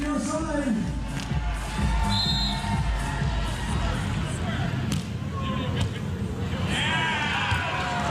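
Australian spectators at a 2015 FIVB World Championships beach volleyball match keep up a steady roar of cheering and shouting, with a commentator talking over the crowd throughout.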